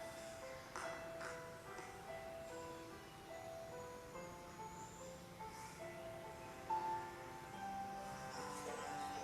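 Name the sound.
mobile phone ringtone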